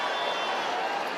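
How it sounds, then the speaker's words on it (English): Boxing arena crowd at a Claressa Shields fight cheering in a steady roaring wash, loud and even over the short stretch with no distinct claps or single voices standing out. "This crowd is going crazy"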